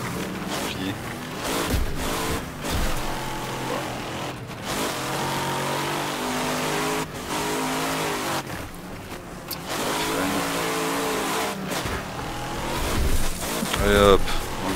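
Car engines roar and rev in the Wreckfest demolition racing game, with thuds and impacts from crashing cars, loud and continuous, while someone talks over the action.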